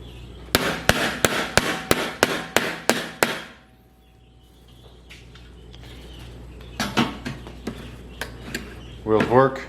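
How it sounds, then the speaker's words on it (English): A hammer striking a wheel onto a Weber Original charcoal grill during assembly, a rapid run of about nine loud, evenly spaced blows, a pause, then a few more hits, with brief talk at the end. "we're going to hammer this one as well"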